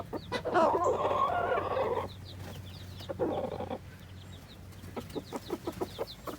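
A rooster makes a run of clucking, chattering calls, some loud bursts and then quicker soft clucks, with a steady low hum underneath.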